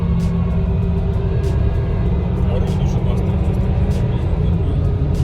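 A five-cylinder car engine pulls uphill with a steady, loud, close rumble that holds throughout, while someone speaks briefly over it.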